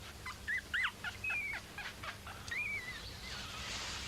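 Monty the dog gives a few faint, high whines and yelps over a quiet hum, the calls brief and scattered across a few seconds.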